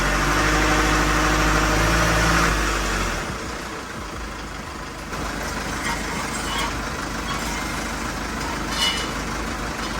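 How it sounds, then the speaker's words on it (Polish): A warmed-up Mercedes Sprinter camper van engine idles steadily nearby with a low rumbling hum, louder at first before settling into a quieter continuous drone. "silnik rozgrzany"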